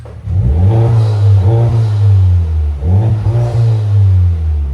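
Honda Civic Type R with a straight pipe exhaust and turbo revs loudly and close by, two deep rising-and-falling throttle blips that swell and drop in a steady rhythm, with no talking.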